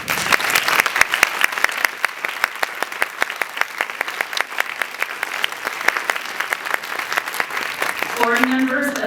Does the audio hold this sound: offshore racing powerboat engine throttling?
no